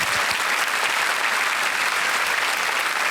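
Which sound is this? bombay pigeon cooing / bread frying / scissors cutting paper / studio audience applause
studio audience applause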